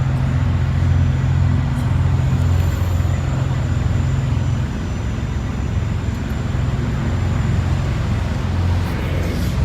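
Peterbilt 379 truck engine fitted with mufflers, a steady, loud, muffled low diesel rumble heard from the cab, holding constant throughout with no talk.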